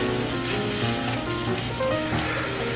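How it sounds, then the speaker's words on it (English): Scrambled eggs in a pan over medium heat give a steady, continuous sizzle and crackle that stays even and close throughout, with no voices. "Okay, scrambled eggs are coming along."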